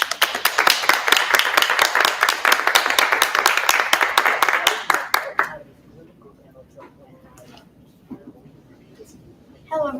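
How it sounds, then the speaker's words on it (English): Round of applause at a public library event for a kid governor: a small audience claps briskly for about five seconds, then it dies away to a quiet room with faint murmurs and shuffling. "I would like you to join me in a round of applause for your 2024 Kid Governor, Cristiano Almeida."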